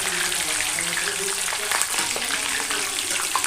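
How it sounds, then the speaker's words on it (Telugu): Green chillies sizzle and crackle in hot oil with a steady, close, bubbling frying hiss, and someone talks faintly over it. "ఆయిల్లో వేయగానే ఆడుతూ ఉంటాయి పచ్చిమిర్చి కదా"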